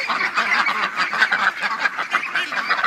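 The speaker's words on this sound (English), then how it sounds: "Come on, duckies!" A flock of ducks quacking and honking continuously while being fed, a dense, busy chorus of overlapping calls close by.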